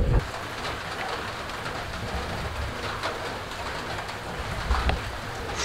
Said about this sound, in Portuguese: Chuva o dia inteiro. Olha isso.